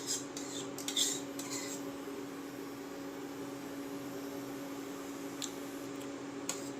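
Sweet and sour sauce with honey being mixed in a bowl: a few faint utensil clinks and scrapes early and near the end, over a quiet steady background hum.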